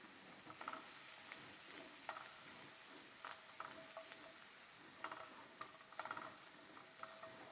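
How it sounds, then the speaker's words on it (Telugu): Mushrooms and beans fry in a pan with a soft, continuous sizzle, punctuated by occasional light clicks and scrapes of stirring, close and gentle, with no talk over it. "ఇవేమో మన మష్రూమ్స్, వీటిని కొద్దిగా వేగనిద్దాం."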